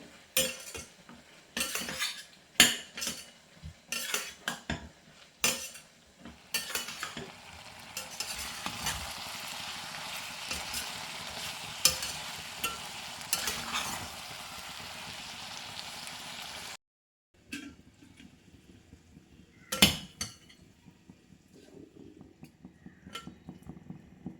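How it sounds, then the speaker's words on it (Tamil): Lamb pepper roast is stirred in oil in a pan, with a utensil clattering and scraping against the metal over a continuous sizzle. A long stretch of frying follows, then quieter scattered stirring. "இப்போ இதை நல்லா வந்து நம்ம எண்ணெயில் வந்து மிக்ஸ் பண்ணி வச்சுருவோம்"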